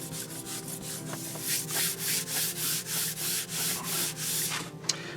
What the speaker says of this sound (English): take your eraser, go over your eraser, go over with your eraser and get rid of all the lines.